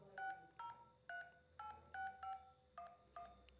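Keypad tones from a phone app sound as a number is entered: eight short, clear beeps in a steady rhythm, close and alone, with no talking.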